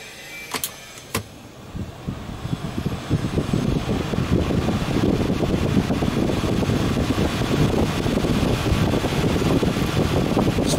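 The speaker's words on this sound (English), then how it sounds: "now checking the blower motor" A freshly cleaned car AC blower motor fan spins up after a couple of clicks and settles into a steady, loud whirring rush of air with a low hum, running close and alone.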